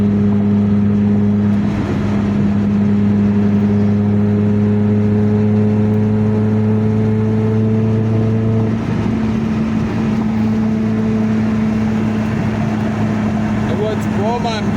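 A car engine hums at a steady idle, then its pitch shifts as it revs a little, a loud, close drone running the whole way through.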